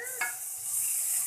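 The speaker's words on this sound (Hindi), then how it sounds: "इन वेजीज को हम 2 मिनट के लिए फ्राई करेंगे" Mixed vegetables stir-frying in a hot pan for egg or chicken fried rice, giving a steady high hiss of sizzling oil with one brief clatter of the spatula early on, close and fairly quiet, with no talk.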